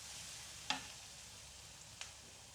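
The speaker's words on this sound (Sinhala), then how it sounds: "මේක ටිකක් තෙම්පරාදු වෙන්න ඕනේ." Button mushrooms with crushed ginger and garlic tempering in a pan give off a soft, steady sizzle, broken by one sharp clink or stir near the start and a fainter one later.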